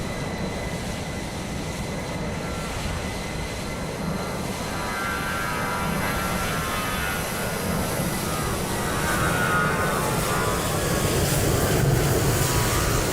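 An EasyJet airliner in Microsoft Flight Simulator 2020 passes during virtual planespotting at Lisbon, giving a steady, moderately faint roar of engines that builds slightly over time, with no talk.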